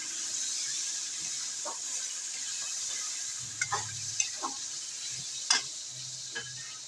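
Aloo pulao masala with yogurt fries in a pan, giving a quiet, continuous sizzling hiss broken by several scattered scrapes and clicks of stirring.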